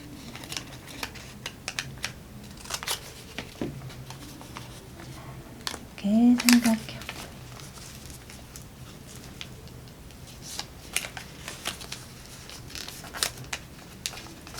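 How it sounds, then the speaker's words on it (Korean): Scissors snip through folded paper during a paper-folding lesson, giving scattered soft clicks and cuts at irregular intervals. A brief voice sounds partway through. "가위로 자르신 다음에"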